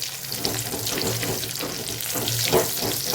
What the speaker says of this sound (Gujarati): એ પહેલાં આપણે મસાલાને સાતળી લેવાનો છે।